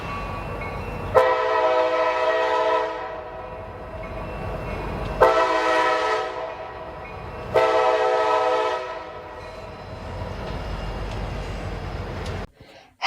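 Freight train with an all-EMD lashup including Western Maryland Mac rebuilds passing close at a railroad crossing, three long loud horn blasts over the steady rumble of the train, ending with a sharp clank.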